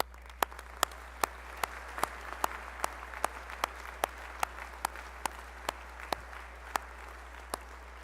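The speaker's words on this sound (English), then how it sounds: "Please join me in a round of applause" Applause from the audience at a medical school commencement, a steady bed of clapping punctuated by sharp, evenly spaced loud claps roughly every half second, as if one person nearby claps distinctly over the crowd.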